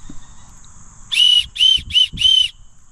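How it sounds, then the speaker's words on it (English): A shrill survival-kit whistle is blown four times in quick succession, short sharp blasts over a quiet background. "Here's a whistle too."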